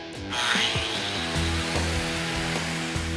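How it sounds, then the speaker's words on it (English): A heavy concrete polishing grinder works against hard igneous granite, a loud, continuous droning whine with rhythmic thumps and scraping pulses running throughout. "the concrete grinder soon has it beat"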